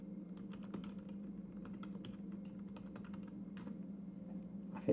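Rapid keystrokes on a computer keyboard as a username and password are entered, a steady patter of soft clicks over a low constant room hum, with a slightly louder tap at the end.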